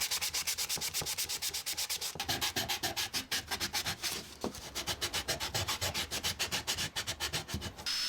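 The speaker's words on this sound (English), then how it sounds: "I then sanded the edges by hand so that it fit the recess" Wood edges are sanded by hand, making a steady, rhythmic series of close rubbing strokes at an even back-and-forth pace that runs throughout without any voices.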